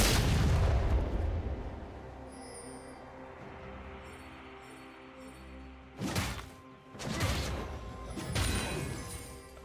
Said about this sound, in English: Blue team's turret has been destroyed.